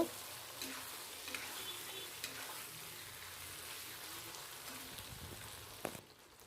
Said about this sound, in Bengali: এক চামচ জিরে বাটা দিয়ে একটু ভালো করে মিশিয়ে নিয়ে মশলাটা কষিয়ে নেব